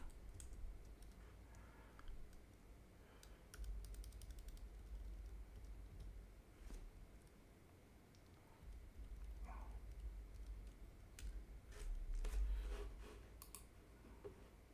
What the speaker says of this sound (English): Don't know what I'm typing, but I'm typing it anyway.